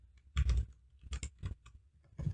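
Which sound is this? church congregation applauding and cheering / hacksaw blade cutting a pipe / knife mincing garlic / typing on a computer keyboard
typing on a computer keyboard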